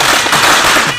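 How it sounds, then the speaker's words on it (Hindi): Firecrackers bursting in a dense, continuous crackle of loud pops with no gaps, all packed into about a second. "पटाखे फोड़ो"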